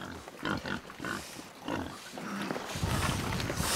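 A group of farm pigs housed in a former cattle barn in a Korean village feed noisily on rice bran, with continuous close grunting and snuffling that grows busier and louder toward the end.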